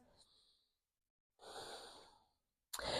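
A slow, deep breath taken during a yoga stretch, heard as a soft airy inhale followed by a longer exhale and the start of another breath, close and quiet with no talking.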